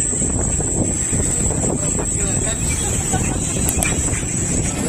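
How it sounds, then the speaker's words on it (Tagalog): Steady, heavy wind buffets the microphone in a continuous low roar, with a faint high whine running throughout and brief muffled voices beneath. "Lakas ng hangin."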